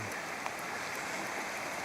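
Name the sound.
rain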